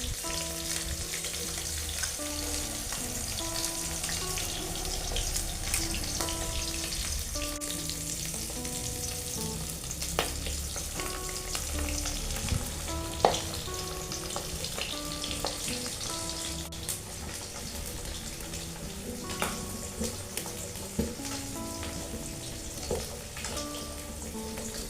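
Katla fish fry steadily in hot oil in a pan in a village kitchen, giving a continuous soft sizzle and crackle with scattered pops and light spatter throughout, and no voices.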